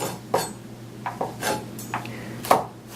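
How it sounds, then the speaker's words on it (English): A knife roughly chopping garlic on a board while olive oil warms nearby: four or five distinct, crisp taps spaced irregularly, close and fairly clear over a low background hum. "chop the garlic pretty roughly in like 1/8 of an inch pieces"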